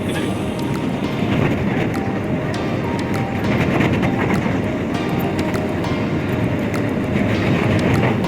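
The Vibhuti Express crosses the bridge over the Ganges at Varanasi at night. Heard from on board, it gives a continuous, loud rumble and rattle of wheels and carriages with occasional sharper clacks and no pauses.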